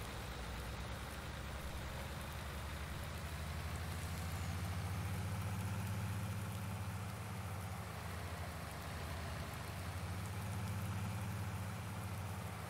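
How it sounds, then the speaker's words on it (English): A MAN truck engine idles steadily in Farming Simulator 19, a low, even rumble that holds at a constant moderate level with no talking. "In our big truck, our big man truck."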